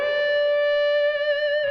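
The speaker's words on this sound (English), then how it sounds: "a basic amp and hall reverb there, but also a heap of compression" One distorted electric guitar note through a Boss ME-80 with amp model, heavy compression and hall reverb sustains steadily and loud, smooth and even, with slight wavering vibrato near the end and a roomy reverb tail.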